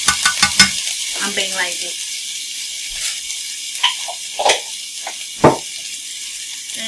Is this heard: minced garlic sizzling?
yes